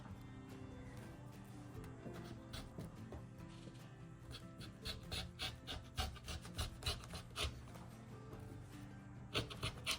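Scissors cut through stacked layers of fabric, vinyl and stabilizer from an embroidered zipper pouch, giving faint rasping snips in a quick run over a low background hum, with no talk.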